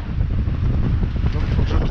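Wind gusts roar across the microphone on a sailboat at sea, a loud rumbling buffet with surging bursts throughout.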